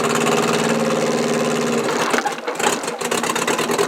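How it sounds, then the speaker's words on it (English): 1959 Morris Minor 1000 engine running with a misfire from a faulty spark plug wire, loud close uneven idle with a rapid chugging pulse that stumbles and breaks up toward the end. "This thing is definitely misfiring."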